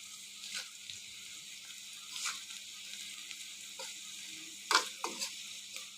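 Ground coriander, cumin and salt sauté in a pan for a tengra fish, eggplant and potato curry, giving a faint, steady sizzle broken by a few soft scraping clicks, with no talking.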